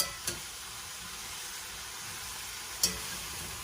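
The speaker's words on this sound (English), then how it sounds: "So I'm just going to cook that up, just get that nice and sauteed." Onions, potatoes and celery sautéing in a pot: a steady, soft sizzle and hiss runs throughout, broken by two sharp clinks of a utensil against the pot.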